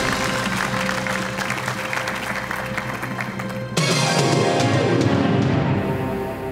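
A studio audience on a television quiz show applauds to welcome a contestant from Baku, a steady loud wash of clapping under music that shifts midway and carries on to the end.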